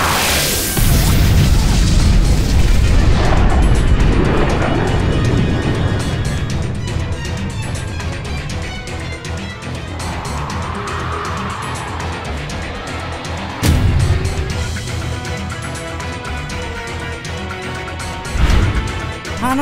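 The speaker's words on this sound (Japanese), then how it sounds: "爆発の威力強すぎだろ" Explosions in the Minecraft video game go off as loud booming blasts. A big burst opens the stretch and sharp hits follow near 14 and 18 seconds, among rumbling game noise and effects.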